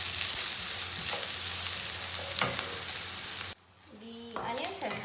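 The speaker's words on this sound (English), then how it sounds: "And just fry them till they brown" Onions frying in a pan for mutton dalca, a steady broadband sizzle for about three and a half seconds, then quieter with faint stirring and clinks near the end.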